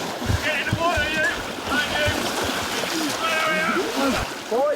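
Commando recruits splashing into water during a training drill, with loud churning splashes and sloshing, shouting voices over the top and a steady wet rush throughout.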